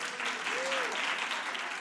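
Studio audience clapping during a cooking show segment about cheese, a dense even wash of applause throughout, with a brief voice sound partway through.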